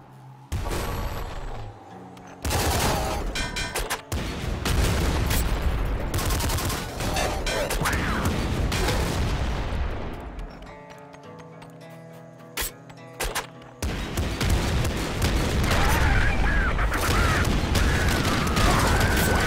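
Dense bursts of smart gun fire from Nuclear Throne rattle in long automatic volleys. A brief gap of clattering mechanisms falls midway before the loud fusillade resumes.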